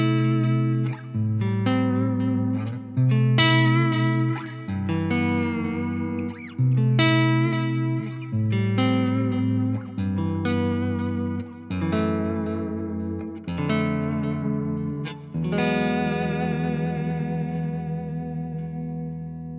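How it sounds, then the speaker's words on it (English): A distorted electric guitar through an EVH 5150III Hypersonic amp and a Source Audio Nemesis delay pedal on digital setting plays a chord progression with repeating delay echoes trailing each strum, sustained and fairly loud, ending on a ringing chord. "I've got a Source Audio Nemesis delay in here on the digital setting."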